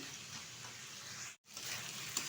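Banana flower curry sautéing in a pan over high heat, a dense, continuous sizzle and hiss, close and even, briefly cut to silence partway through, no voices.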